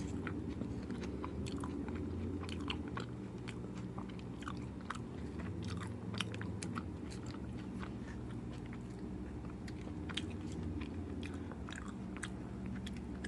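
Alvolo pizza with potato and sweet potato toppings being chewed up close: steady soft chewing and biting with faint crunches over a low background hum, with no talking.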